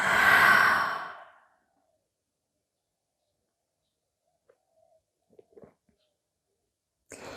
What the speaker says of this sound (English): Inhale through the nose. Exhale by the mouth.